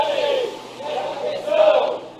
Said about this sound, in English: That is the sound of steel workers protesting outside the U.S.